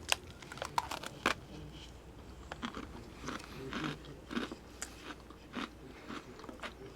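The Most Oreo sandwich cookies are bitten and chewed up close, with sharp crunchy bites followed by quieter, irregular crunching and chewing in an otherwise quiet room.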